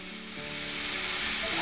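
Makhani sauce poured over lightly browned cottage cheese in a hot pan, a steady bright sizzle and hiss rising slightly in loudness over a short moment, close and alone.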